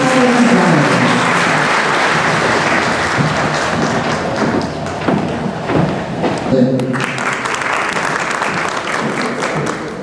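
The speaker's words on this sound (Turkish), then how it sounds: "Alkışlarınızla sizi uğurluyoruz." An audience applauds at a traditional Ahi guild ceremony in Mudurnu, producing sustained, dense clapping that fills the whole stretch, loud and close, with voices mixed in underneath.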